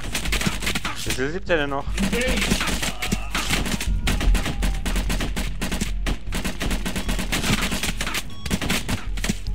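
Bursts of rapid gunfire from weapons in the VR shooter Covert Syndrome crackle steadily through the whole stretch, loud and close, while someone talks over the shots.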